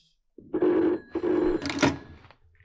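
An old-style telephone bell rings nearby in two loud bursts, then falls silent.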